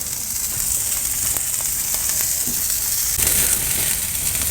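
Seaboard scallops searing in a hot pan, a steady, close hiss and sizzle with small crackles running throughout, fairly loud and unbroken.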